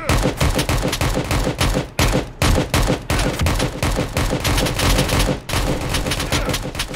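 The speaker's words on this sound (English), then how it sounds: "I'm getting shot from every angle." Dense rapid gunfire in the military shooter game Project Delta, loud overlapping bursts of automatic weapons with brief pauses, constant and close.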